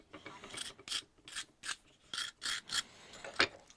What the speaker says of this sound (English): I'm just cleaning some of the crud out of the bolts